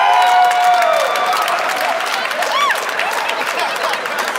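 A stand-up comedy audience claps and cheers continuously, with a few whoops and whistles rising above the steady applause.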